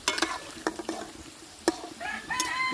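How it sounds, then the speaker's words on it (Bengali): Bursts of stirring and scraping over a soft sizzle of jackfruit fritters frying in oil, with a few sharp clicks and a rooster crowing faintly in the background. "লাল লাল করে বড়াগুলো ভেজে নেব"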